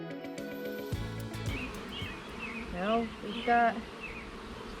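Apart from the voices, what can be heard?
honeybees buzzing around a hive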